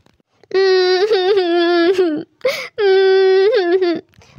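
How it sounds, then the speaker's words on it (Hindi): A child cries in a sustained wailing, sobbing voice, two long drawn-out cries broken by a short gasp, loud and close, from an animated Hindi children's story. "चिंकू के रोने की आवाज़ सुन के गौरी भी वहाँ पर आ जाती है"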